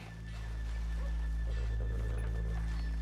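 Horses in a video game whinny and shift their hooves nearby, heard alongside a loud, steady low drone that swells in during the first half second and persists throughout, with no talking.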